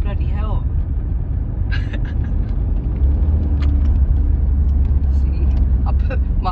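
A diesel BMW car rumbles with a deep, steady low engine drone inside the cabin as it accelerates hard, with occupants talking over the noise.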